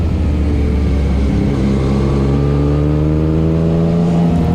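A Yamaha MT-09 motorcycle accelerates hard on a mountain road between Doi Suthep and Doi Pui village. The engine is loud and close, rising steadily in pitch through the gears under rushing wind.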